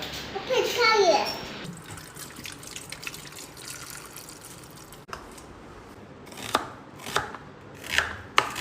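Onion is sliced with a knife in a home kitchen while tomato rice is being made; a few sharp separate cuts come near the end, after a stretch of voices and running water.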